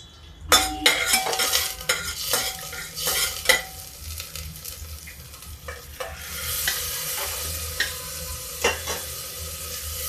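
Asafoetida hits hot oil in a pan for a dish of greens, crackling and sizzling continuously while a metal spoon scrapes and clinks against the pot in repeated sharp strokes, close and fairly loud, with no talk.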